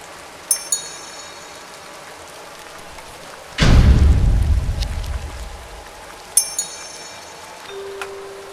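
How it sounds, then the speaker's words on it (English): Rain falls steadily outdoors on a windy, humid bikepacking trail, with a loud, rumbling burst midway that fades away and a few sharp clicks. "The rain came."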